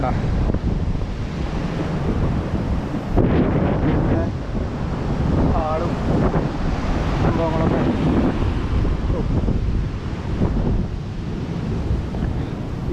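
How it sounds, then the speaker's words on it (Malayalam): Rough sea surf and gusting wind during heavy monsoon rain, a continuous loud roar with wind buffeting the microphone, and someone talking faintly beneath it. "കടൽ വരണ"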